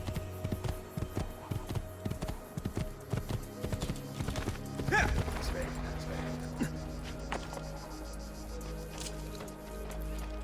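Hoofbeats of a galloping horse in the video game Assassin's Creed II drum quickly for about five seconds, then a whinny rises as the gallop breaks off into quieter ambience.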